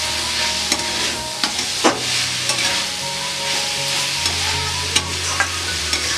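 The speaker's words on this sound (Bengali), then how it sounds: "এইবার আমি ভালো করে মশলার সঙ্গে মূলোটা মিশিয়ে নিচ্ছি।" Radish pieces fry with spices in a pan, giving a steady loud sizzle while a utensil stirs and scrapes, tapping the pan at irregular intervals.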